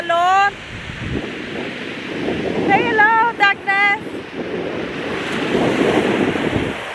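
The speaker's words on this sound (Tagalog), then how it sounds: "Ang lakas ng alon." Strong ocean waves surge and crash on a shore at high tide, a roaring wash swelling and easing while wind buffets the microphone; a person speaks briefly near the start and a few voiced calls cut through midway.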